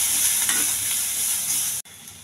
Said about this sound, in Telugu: కరివేపాకు, జీలకర్ర, ఉల్లిపాయలు, పచ్చిమిర్చి, కొద్దిగా అల్లం వెల్లుల్లి పేస్ట్, పచ్చివాసన పోయేంత వరకు వేగించాలి.